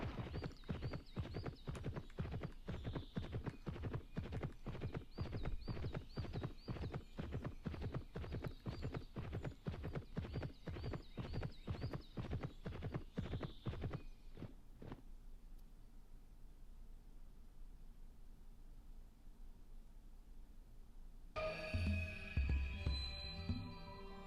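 A horse in the video game Petz Horsez 2 runs through a forest, its hooves beating a fast, steady clip-clop for about fourteen seconds. Then quieter ambience follows, and a louder burst of sound comes near the end.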